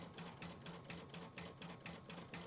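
An embroidery sewing machine stitching a quilted border block, a fast steady mechanical whirr with regular rhythmic pulses of the needle, close and quiet, running alone without voices.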